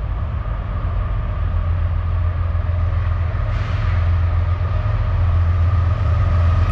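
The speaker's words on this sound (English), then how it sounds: "That's the auto rack train. Train 11N, hammered down westbound." A heavy Norfolk Southern freight train, the 11N auto rack train with Union Pacific AC4400CW locomotives, rumbles steadily past westbound at speed close by, a loud continuous low roar with rattling wagons and a faint rising whine partway through.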